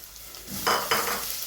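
Onions and garlic paste frying in a pot for Kenyan beef pilau, a steady hiss of sizzling with two brief louder bursts as the mixture is stirred, close and without talk.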